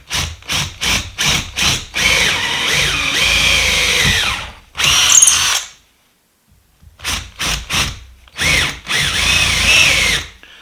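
A power drill whirs loudly in short bursts through a pilot hole in a sculpture base, a quick series of brief triggers followed by longer runs, stopping for a pause before starting again.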